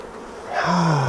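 Wild-caught honey bees buzz around a heavy, honey-packed hive frame, a close rising drone swelling loud midway through.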